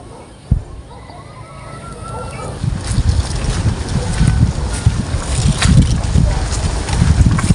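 Strong wind gusts buffet the microphone outdoors on a hunting trip, a steady roaring rumble that builds in loudness and stays broadband throughout, with a brief thump near the start.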